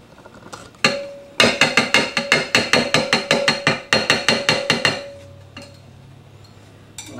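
Lye being stirred in a container for soap making, a quick run of bright, regular metallic clinks and taps, like a utensil striking the sides, followed by a quieter steady hum.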